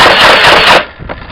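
A Nerf blaster rapidly fires foam darts during a Nerf war, a loud close burst of quick rattling shots lasting under a second, followed by a short fainter clatter.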